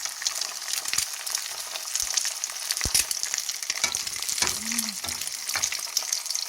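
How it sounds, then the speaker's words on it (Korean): An egg fries in a pan with a little salt sprinkled on, producing a steady crackling sizzle with scattered sharp pops, close and continuous, with no talking. "영양가 많은 계란을 후라이를 하나 부쳐서 먹어볼 겁니다."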